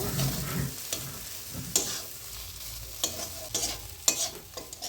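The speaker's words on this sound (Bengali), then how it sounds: "এই যে আলু মেখে রেখেছিলাম, এটা দিয়ে দেব। নাড়াচাড়া করে আমি এটাকে নামিয়ে নেব।" Mashed potato filling stirred in a hot pan for aloo paratha, a spatula scraping in scattered strokes over a low, steady sizzle, close and moderately loud.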